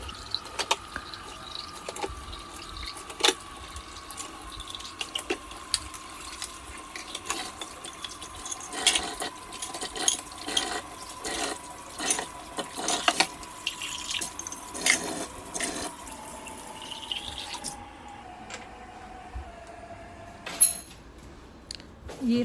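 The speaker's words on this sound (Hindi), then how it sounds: "अब हम बर्तनों को पानी से धोएंगे" Tap water runs steadily into a kitchen sink while dishes are washed, a soft continuous rush broken by scattered clinks and splashes, with no talking.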